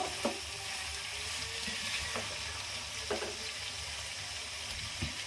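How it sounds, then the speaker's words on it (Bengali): Pieces of pointed gourd (potol) fry in oil in a pan with a steady low sizzle, a few faint clinks from stirring cutting through, close and with no talking. "পটলটা দেওয়া হয়ে গেছে তেলে। পটল থেকে জল উঠেছে অল্প।"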